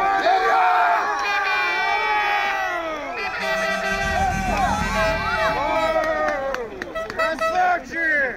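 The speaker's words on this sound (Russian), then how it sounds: "А потому трибуны то и дело взрываются громкими криками." A large stadium crowd shouts and roars in loud waves, with cheers and chanting swelling and dipping throughout.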